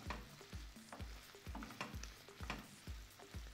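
Chicken and mushroom pieces frying in a pan, a continuous sizzle broken by regular scraping strokes of a spatula about twice a second, close and clear with no talking.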